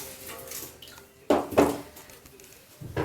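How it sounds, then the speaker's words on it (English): Water poured into a vase for flowers, starting with a sudden splash and gurgling burst, then trickling and faint clinks, with a second short splash near the end. "Just place some water into there."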